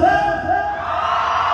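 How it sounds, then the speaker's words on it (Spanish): Crowd at an outdoor fair shouting together in a loud, sustained collective yell, close and continuous for the whole moment. "Que se escuche ese grito parejito de Chaco."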